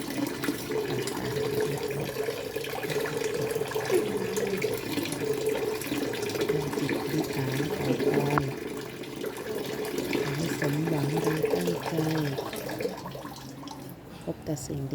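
Water poured from a bottle in front of the ordination hall at Wat Nak Prok, a Buddhist temple in Phasi Charoen, Bangkok, makes a steady splashing trickle for the whole stretch, with voices murmuring underneath.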